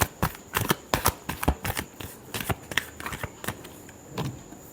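A deck of tarot cards being shuffled up close, a rapid series of crisp riffling flicks and slaps in quick uneven bursts that taper off into softer handling.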